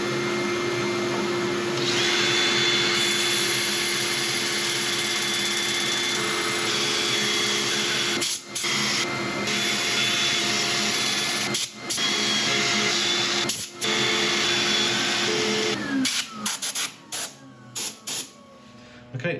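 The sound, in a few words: sanding a laburnum wood bowl on a lathe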